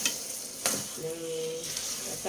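A sugary sweet snack mixture is stirred in a hot pan, giving a soft, continuous sizzle with a few scraping strokes of the spoon and brief sharper sweeps, close by and alone.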